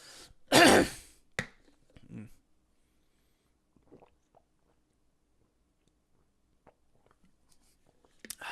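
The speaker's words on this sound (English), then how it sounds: "I think I might be getting sick because I'm coughing a lot" A person coughs and clears their throat, one loud harsh burst followed by a couple of shorter throat clears, then near silence with faint small noises.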